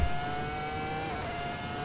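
Ferrari F2004 Formula One engine in the Assetto Corsa racing game, held at high revs below the limiter, giving a steady, loud, continuous whine with a slight pitch dip partway through, alone with no talk.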